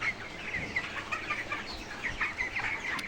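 About a thousand broiler chickens cluck and chirp together in a shed, a faint, continuous flock chatter with overlapping calls and no voices.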